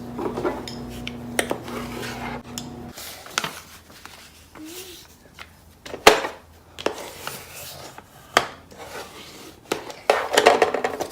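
Scored paper card is folded for a DIY envelope, with close, sharp creasing snaps and scraping rubs spread irregularly across the clip and a low hum at the start.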